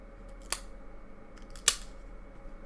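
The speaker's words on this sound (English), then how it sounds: "Let me see if I can go ahead and pull these stickers off" Two short sharp tearing sounds, close and fairly quiet, as stickers are peeled off a Nexus 4 phone box, separated by about a second of near silence.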